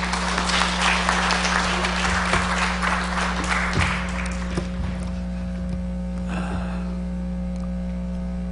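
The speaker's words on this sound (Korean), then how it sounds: "박수도 한번 하겠습니다." A church congregation applauds to welcome a visiting pastor to the pulpit, a full, steady clapping under a constant electrical hum that thins out midway and fades to scattered claps.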